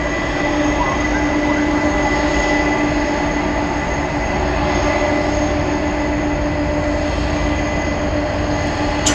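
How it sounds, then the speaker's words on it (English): An American Airlines Boeing 777-200 jet takes off at Dallas/Fort Worth airport, a loud, steady engine roar with a constant rumble and whine that holds without letting up, heard at a distance. "it looks like we have American Flight 997 to Buenos Aires. It's 777-200 poised for takeoff."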